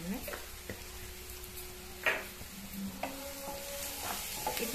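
Turmeric and spices frying in a pan for a cauliflower dish, a soft, fairly faint sizzle with scattered clinks and a few sharper pops, heard close and without talk.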